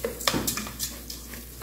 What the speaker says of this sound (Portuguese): Agora eu vou refogar.